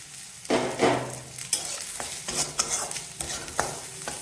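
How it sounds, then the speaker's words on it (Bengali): Onion, nigella seeds and green chili frying in a pan with ground coriander, cumin, turmeric, salt and mustard powder stirred in, made for a bata fish curry. A steady sizzle runs under repeated spatula scrapes and knocks. "এবার এর মধ্যে আমি ধনে গুঁড়ো, জিরে গুঁড়ো, হলুদ, লবণ আর সর্ষে গুঁড়ো করে দিয়ে দিলাম।"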